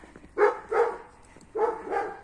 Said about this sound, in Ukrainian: Це щось собака загавкала